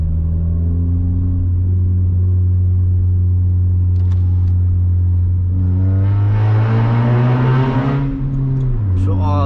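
A loud Hyundai Tiburon coupe engine booms in a tunnel, holding a deep steady rumble before revving hard with a rising roar that echoes and then drops off.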